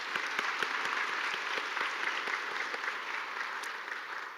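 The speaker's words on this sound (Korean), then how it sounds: "우리 감사의 마음을 담아서 한 박수 한번 칠까요?" A church congregation at a Sunday worship service claps together, a steady dense applause with individual claps popping through, moderately loud and sustained without talk.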